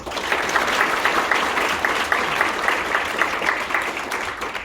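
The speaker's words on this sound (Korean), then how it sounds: "감사의 박수 부탁드립니다" Dense, steady applause fills a hall at a union delegates' annual convention, a large audience clapping continuously and loudly from start to finish with no pause.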